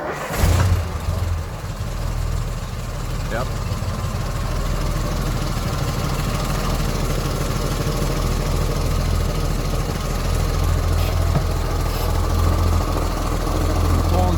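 A 1958 Mack B-21 fire truck, left sitting for 30 years, has its engine running at a steady, loud idle with a low rumble throughout, after a brief burst at the start, as a person briefly speaks over it.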